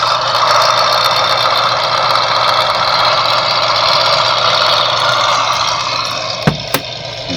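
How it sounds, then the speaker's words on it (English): A steady car engine idles without letup, a constant low rumble and hum, with a couple of brief clicks near the end. "most of the sound of the engine comes out the back."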